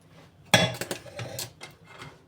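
Metal cooking pots clank and knock as they are handled while straining a caraway soup with onion, one sharp clatter followed by several lighter bumps and scrapes.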